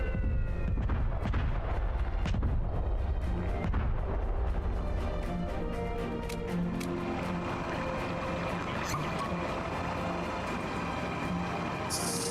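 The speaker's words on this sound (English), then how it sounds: "All those explosions only hit a few of them." A burst of heavy booms from a video game battle opens the scene, several deep blasts in quick succession, then fades into a rumbling, ringing aftermath of scattered distant impacts and ambient game noise.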